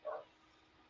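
One faint, distant bark at the very start from a neighbor's dogs in the background, followed by quiet room tone.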